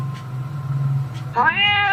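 A low hum gives way to one clear, close black cat meow near the end, short and rising.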